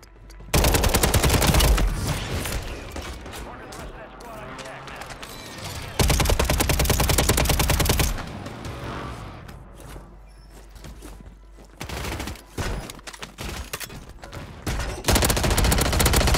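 Rapid automatic gunfire from the Warzone 3 first-person shooter, loud, sustained bursts separated by short pauses, with footsteps and quieter game sounds in between.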